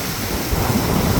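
Heavy rain pours down in Punjab in a loud, close, rushing roar with a low rumble underneath, steady and unbroken, with no one speaking.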